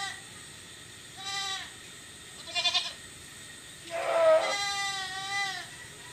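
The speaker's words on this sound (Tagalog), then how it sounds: "Yan po yung ating kambing mga nakawala." Boer goats bleat on a farm: several separate wavering calls at intervals, moderately close, over quiet outdoor background with no talking.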